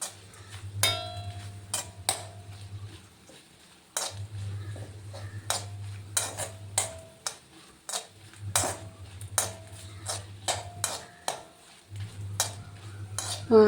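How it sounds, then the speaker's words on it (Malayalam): Sun-dried chillies (kondattam) fry in a pan as a spoon clinks and scrapes repeatedly while stirring, over a low intermittent hum from the stove area. "പാകത്തിന് വറുത്തെടുക്കണം."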